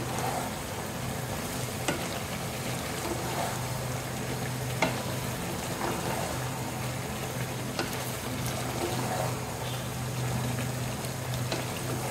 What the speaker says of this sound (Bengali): একটু ভালো করে মাছগুলো ভাজা হয়ে গেছে, নামায় ফেলবো এখন।